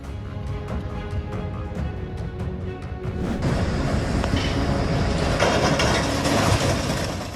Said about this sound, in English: The train keeps moving while the bridge rips through the railcar